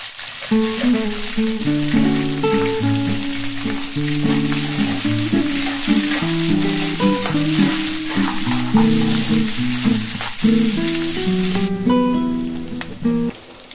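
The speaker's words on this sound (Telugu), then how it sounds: "తర్వాత పచ్చిమిరపకాయలు, ఆనియన్స్ వేసి బాగా వేసుకుందాం" Tempering of dried red chilies, green chilies and onions sizzles steadily in hot oil for the whole stretch, a close, continuous crackle under a melodic musical backing.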